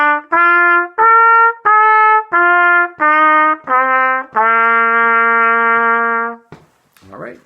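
A trumpet plays an arpeggio as a series of clear, separately tongued notes that step up and then come back down, ending on a long held note, followed by a brief breath.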